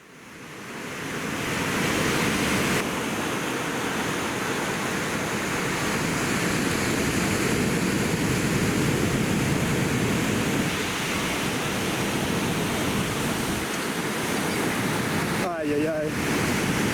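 Ocean waves break at a closeout beach break as a loud, continuous wash of surf with wind, steady throughout with no letup.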